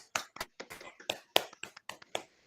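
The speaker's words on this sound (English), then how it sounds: "Let's clap it up. Clap it up, boys." A few men clap along while calling an NBA game, Cavaliers at Magic, in sparse, irregular bursts of sharp hand claps, fairly close and dry, with brief gaps between them.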